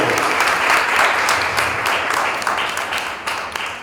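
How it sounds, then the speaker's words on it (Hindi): Audience applause for the actors after a stage play performance, a full, continuous round of clapping from a seated crowd, steady and fairly loud, fading slightly toward the end. "एक बार सभी कलाकारों के लिए जोरदार तालियां।"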